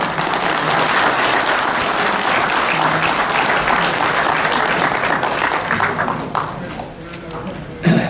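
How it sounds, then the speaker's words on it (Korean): Loud applause from a lecture audience welcoming a speaker to the podium, dense continuous clapping that thins and fades near the end as a voice starts to come through. "모두 큰 박수로 맞이해 주시기 바랍니다"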